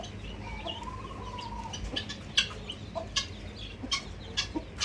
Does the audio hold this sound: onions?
no